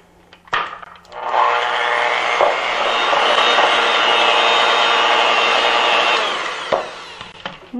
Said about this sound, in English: I'm going to use my electric mixer and cream this together